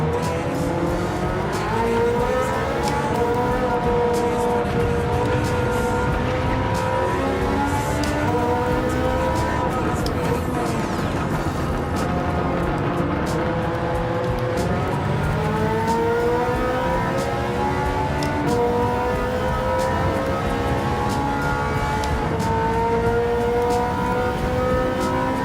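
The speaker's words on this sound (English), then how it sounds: "I can hear my own engine with all this horsepower around me." Race cars in the PS5 game Gran Turismo 7 roar continuously and loudly, several engines revving and shifting through gears with rising and falling whines, a dense pack of horsepower heard together for the whole stretch.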